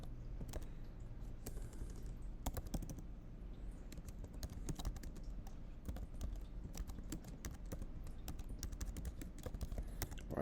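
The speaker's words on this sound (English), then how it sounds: "Let's go type it in." A Google search is typed on a computer keyboard, with quick, uneven bursts of clicky keystrokes that stay faint and close throughout, with no talking.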